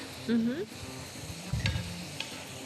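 Minced meat fries in a pan for a dish with peppers and eggplant, giving a close, steady sizzle with a few stirring scrapes and a brief clatter, and no one talking.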